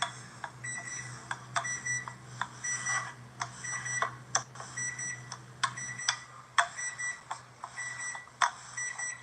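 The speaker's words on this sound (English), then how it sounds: "Got my timer going off, y'all." Kitchen timer going off in a home kitchen during beignet frying, repeating clusters of bright electronic beeps at an even pace over a constant low hum.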